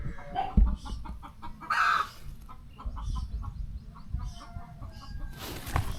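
An angry broody hen sitting on eggs clucks repeatedly at close range, making sharp, irregular calls with a few louder squawking bursts against light background noise.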